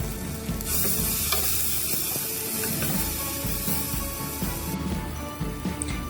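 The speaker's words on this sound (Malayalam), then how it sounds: "എണ്ണയൊന്ന് ചൂടായി കഴിയുമ്പോൾ നമ്മൾ നേരത്തെ തന്നെ ചതച്ച് വെച്ചേക്കുന്ന ഇഞ്ചി വെളുത്തുള്ളി ഇട്ട് കൊടുക്കാം." Crushed ginger and garlic frying in hot coconut oil for a mutton curry: a loud, steady sizzle runs throughout, with occasional light stirring scrapes and no voices.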